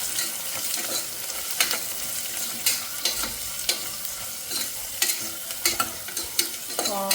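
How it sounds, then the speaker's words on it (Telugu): Sliced onions deep frying in hot oil, a dense continuous sizzle with regular scraping stirs of a spatula rising above it, close and fairly loud with no talk. "ఆనియన్స్ మొత్తం గోల్డ్ బ్రౌన్ అయ్యే వరకు ఆయిల్లో డీప్ ఫ్రై చేసుకోవాలి"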